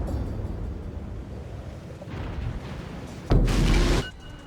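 A torpedo hit explodes against a ship in the World of Warships video game, a short, heavy boom with a broad roaring burst lasting under a second, set over a continuous low engine-and-sea rumble.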